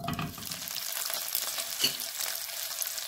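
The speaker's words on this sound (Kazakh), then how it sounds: "Осылай қуырып аламыз, әбден қызартып." Sausages fry in a small amount of oil in a pan over a gas flame, giving a steady close hiss and crackle that runs throughout with a brief louder pop near the middle.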